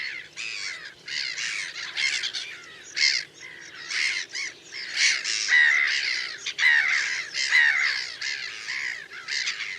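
A colony of black-headed gulls calls without pause in harsh, raucous squawks that overlap and rise and fall in loudness, some near and some farther off, with no talking.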